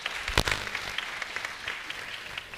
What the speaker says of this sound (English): So I think we need to give them a round of applause, if that's okay.